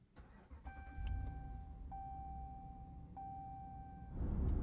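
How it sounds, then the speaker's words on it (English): Inside a 2022 Ram 2500 Power Wagon with a 6.4-liter V8, three soft warning chimes sound in a quiet cab, then the starter cranks and the engine catches with a rising, close rumble at the end. "Let's fire it up."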